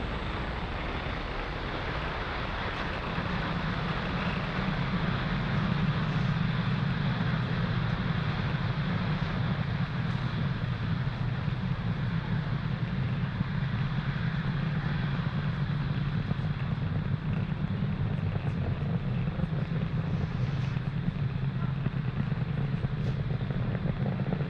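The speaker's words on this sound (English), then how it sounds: "Falcon 9 has successfully lifted off from pad 40" A distant SpaceX Falcon 9 rocket lifting off from pad 40 with the Inmarsat satellite aboard gives a continuous roaring rumble. A deep, heavy low band swells in after about three seconds and holds steady without pause.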